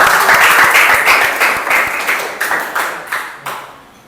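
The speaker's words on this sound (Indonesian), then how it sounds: "Sekali lagi, tepuk tangan untuk kita semuanya." A class of children applauds together, loud and close at first, the clapping thinning out and fading over a few seconds.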